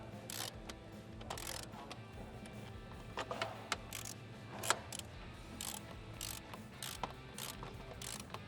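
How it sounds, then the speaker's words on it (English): Torque wrench tightening bolts during a power pack install on a Nissan Frontier, with sharp ratcheting clicks in irregular bursts against a steady mechanical hum in a garage. "They get about even and then we'll go back and torque them down"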